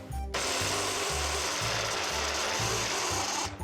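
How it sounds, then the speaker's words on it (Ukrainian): A blender chopping onion whirs loudly and steadily for a few seconds, its motor roar thick with a rough, chopping texture, then cuts off abruptly. "Цибулю подрібнюємо в блендері."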